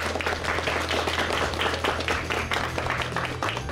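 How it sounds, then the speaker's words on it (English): An audience at an Arkansas state quiz bowl tournament applauds the competitors, with a steady wash of clapping that holds at an even level throughout, plus a faint low hum underneath. "One more big round of applause from everybody here for all the competitors."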